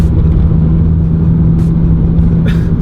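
A supercharged Honda Civic Type R on the move, its engine a loud, steady close-up drone and rumble inside the car, with a constant low hum and brief hiss in the higher range.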